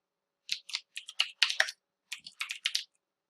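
Page title typed on a computer keyboard for a WordPress page, two quick runs of close, crisp key clicks with a short pause between, no talk.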